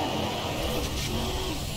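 Roaring race-game car engine from Midnight Club 3 DUB Edition as nitrous boost kicks in, a steady loud broadband rush with no break across the short stretch.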